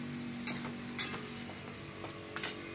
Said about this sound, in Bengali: এটাও আমি আরও 2 মিনিট মতো খুব কষে নেব